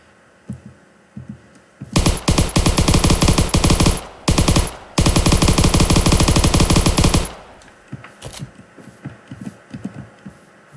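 A PPSh-41 submachine gun in a Minecraft weapons mod fires loud, sustained automatic bursts: one long stream of rapid shots, a brief pause, then a second extended burst before it stops.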